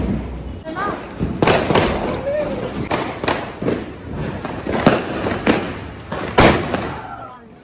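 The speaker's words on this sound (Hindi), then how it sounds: "पटाखा फाड़ दे" Firecrackers burst repeatedly in sharp, irregular cracks and thumps, some loud and close, with people talking in between, during a Diwali celebration.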